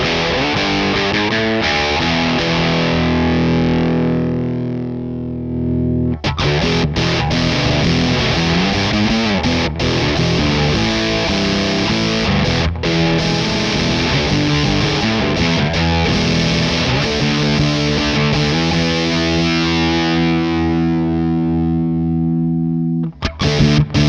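Electric guitar played through a Rorschach Devices Misophenia distortion pedal, a thick, saturated tone of sustained chords and riffs, loud and continuous with a brief drop in the middle.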